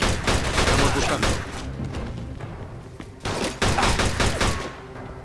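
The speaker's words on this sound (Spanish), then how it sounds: "Este rifle alemán pega lo lindo." Rapid German rifle gunfire in Mafia 2 during a chaotic shootout, loud overlapping shots and thuds in dense bursts with a brief lull midway, no clear talking.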